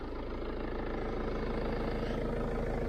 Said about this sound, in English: as you might hear, we've got the engine running on amble